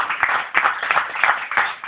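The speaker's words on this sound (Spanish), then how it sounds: "Démosle un aplauso por esa bendición linda." A church congregation gives a short burst of applause during a Spanish-language service, with a few scattered, moderately loud claps over a soft murmur.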